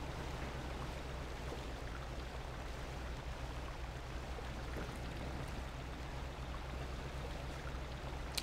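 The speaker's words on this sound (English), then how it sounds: "This way it should just slowly crawl through the water" A truck in the Mudrunner video game, set on the Deluge map, crawls slowly through water. A steady low engine drone runs under continuous rushing, splashing water noise, even and unbroken throughout.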